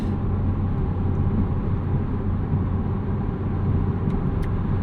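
Steady, close engine and road rumble from a 2023 BMW Z4 M40i being driven in Eco Pro mode on a road trip, a continuous even drone with no talk.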